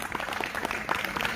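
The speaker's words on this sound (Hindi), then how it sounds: "जोरदार जोरदार तालियां।" Applause from an audience at a live yoga event during a trophy distribution, a brief burst of steady clapping at moderate loudness with crowd murmur underneath.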